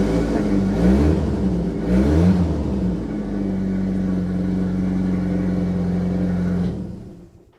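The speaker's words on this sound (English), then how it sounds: "So the Saab is running again." A Saab 900 Turbo engine with K-Jetronic injection and vacuum leaks runs close by, revving twice in quick bursts before settling into a steady, loud idle that cuts off near the end.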